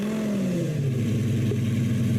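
A Lamborghini Gallardo engine in a Roblox driving game settles into a loud, steady low idle just after startup, a continuous rumble with a slight drop in pitch.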